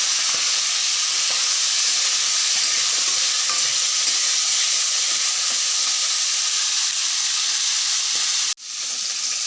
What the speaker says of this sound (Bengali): ট্যাংরা মাছগুলো ভেজে নিব।